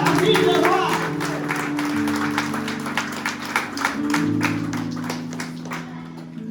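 A congregation at a baptism celebration claps in a steady rhythmic beat, with many hands together over music and voices, the clapping carrying on for several seconds.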